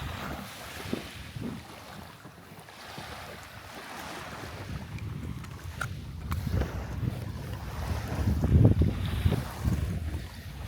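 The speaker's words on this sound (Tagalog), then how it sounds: "Yan pala ang bangka na sinasakyan namin" A small boat moves across open water, with waves slapping the hull and gusty wind buffeting the microphone, swelling louder toward the end.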